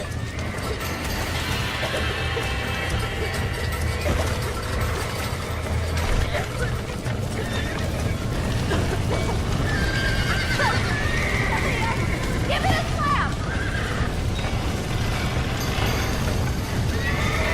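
Horses whinny and gallop in the Red Dead Redemption video game, hooves pounding steadily under loud neighing and other game noise while someone shouts over it.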